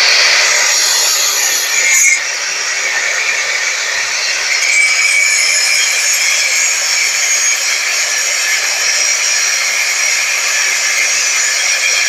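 Sawing through a metal tube for a hammer handle produces a steady, loud, bright rasping hiss that runs unbroken for the whole stretch, close and alone with no voices.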